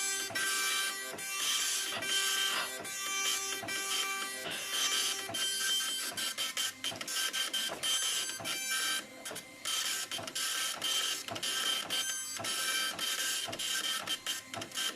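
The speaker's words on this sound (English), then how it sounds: "This is a dot matrix printer." A dot matrix printer prints continuously for the full stretch, its print head buzzing and rasping in rapid line-by-line bursts with brief pauses between passes, loud and close with no voices.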